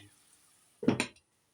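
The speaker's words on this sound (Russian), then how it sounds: "Сырые пельмени можно жарить." Raw pelmeni frying in a pan are stirred with a utensil, giving one short scraping clatter against the pan, close and fairly loud, then quiet.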